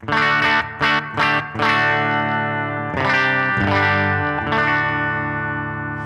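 Kiesel multiscale electric guitar on its bridge pickup through distortion and modulation effects and a Princeton Reverb amp model: a few choppy, sharply picked chords, then sustained ringing chords with shimmering chorus and reverb, loud and close.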